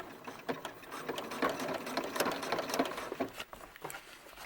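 A sewing machine stitches a doll's hat for a ball-jointed doll, a steady close mechanical whirr and rapid needle chatter in bursts, running alone without talk.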